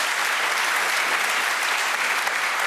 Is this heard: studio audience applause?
yes